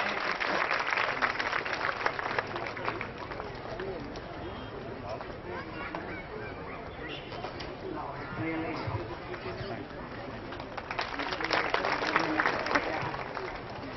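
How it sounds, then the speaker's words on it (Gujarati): An audience at a centenary celebration welcomes a guest with steady applause lasting the whole stretch, loudest at the start and again near the end, while voices murmur underneath. "જોરદાર તાળીઓથી એમને વધાવીએ."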